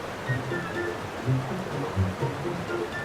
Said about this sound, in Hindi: नदी का किनारा